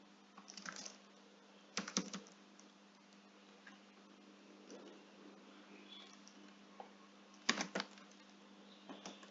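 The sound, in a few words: typing an email address on a computer keyboard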